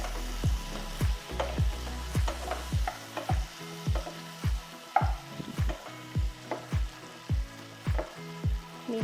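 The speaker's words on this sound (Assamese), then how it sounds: "অলপ টাইম এইখিনি ভাজিম।" Prawn masala sizzles in a hot pan while a spatula stirs it, giving repeated scraping strokes in a steady rhythm over a constant crackling fry, close and fairly loud with no voices.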